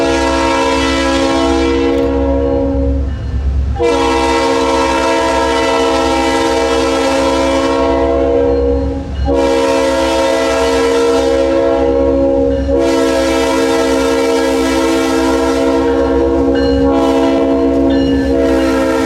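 South Shore CSS 2000 freight locomotive leading north on the Kingsbury Branch, its chorded horn blaring in long loud blasts with short breaks over the low rumble of the passing train in the woods.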